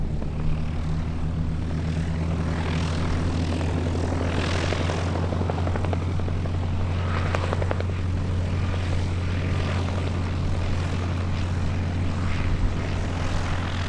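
A Bell 47 (H-13 Sioux) light piston helicopter flying at the Duxford airshow, its engine drone and rotor thrum steady and moderately distant, holding one level throughout.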